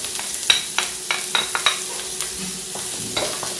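Ginger and garlic stir-frying in a pan over a high flame, with a steady sizzle and several sharp scraping clicks of the spatula spread across the stretch, fairly close and without talk.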